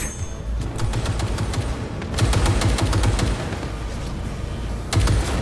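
Gunfire in the video game Cyberpunk 2077 during a firefight: dense, loud bursts of rapid automatic shots crackling almost continuously, with a few sharper distinct bangs, and no talking.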